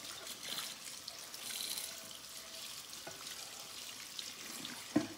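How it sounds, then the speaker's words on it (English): Tap water running faintly over a tumbler being rinsed, a soft steady splashing with a small clink near the end. "I'm gonna go ahead and continue rinsing this"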